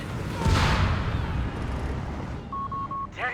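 Grenade blasts in the strategy game Company of Heroes 3, a loud booming burst with a long rumbling tail, followed by a brief beeping tone and rattling gunfire near the end.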